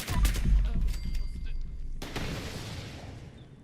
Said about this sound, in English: I hear shooting. See shooting. I see bullets.